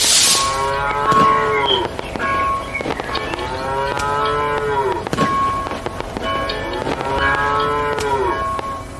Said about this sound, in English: I want to hear a moo cow.